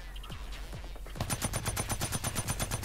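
Max-damage heavy assault rifle in Blacklight Retribution: a few scattered shots, then a steady, fairly fast burst of repeated gunfire at a moderate level that runs to the end.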